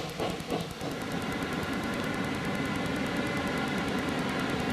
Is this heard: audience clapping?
no